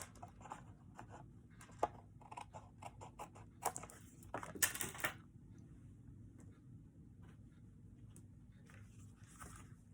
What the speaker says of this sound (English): I'm just going to cut it down.